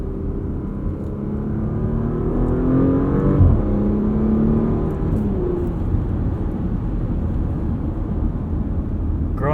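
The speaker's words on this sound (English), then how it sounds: "Growing to appreciate the sound of this V6 more and more too." A 2022 Porsche Macan S V6 engine revs steadily at close range, pitch climbing and dipping through gear changes, with a continuous droning exhaust tone and no voices.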